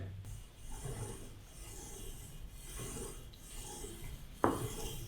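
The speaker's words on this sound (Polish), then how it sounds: "A zasługą cichej pracy każdego z tych wyciągów jest przede wszystkim wysokiej jakości kółko i dodatkowo linka, stalowa linka" A commercial gym cable pulley tower with a high-quality pulley wheel and steel cable runs quietly in a soft, repeated rasping rub, with strokes about a second apart and a sharper clack near the end.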